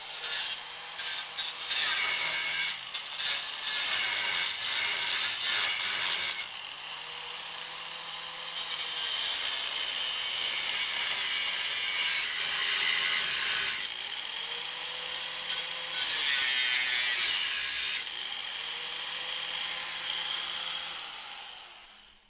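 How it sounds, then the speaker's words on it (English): An angle grinder cuts the head off a bolt on the front bumper of a Chevrolet squarebody truck. It gives a loud, steady abrasive whine that runs almost without a break, with shifts in pitch and pressure as the disc bites. "we're gonna fire up the angle grinder and just cut the head off of it"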